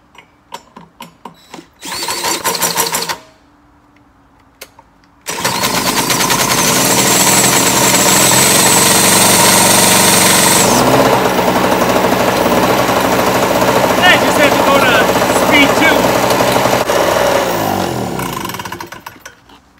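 Small engine converted to drill start: short bursts of drill cranking, a pause, then the engine catches and runs loudly and steadily for over ten seconds before winding down.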